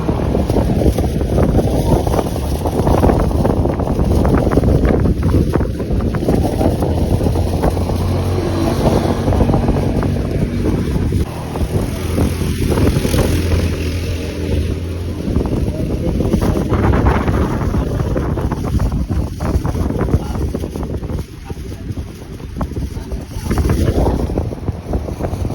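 A boat crossing to Caticlan near Boracay, with a steady broadband rumble of engine and water under heavy wind buffeting the microphone throughout, loud and continuous, with no talk.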